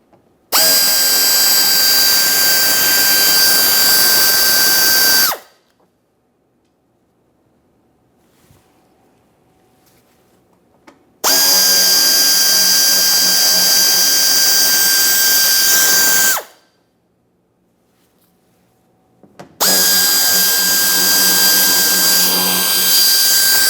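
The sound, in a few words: power driver with T15 bit removing bumper mounting screws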